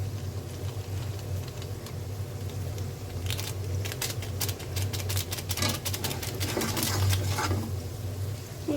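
An egg sizzles in a pan with noodles, a steady low frying hiss under a flurry of crisp spattering crackles that build in the middle and taper off, close by with no talking.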